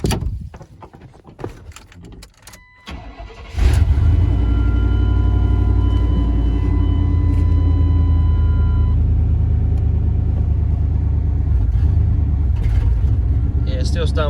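A 1993 Chevrolet K1500 pickup engine cranks briefly after a fuel pump change, catches, and settles into a loud, steady, slightly rough idle that runs without letup, with some clunks and handling noise beforehand.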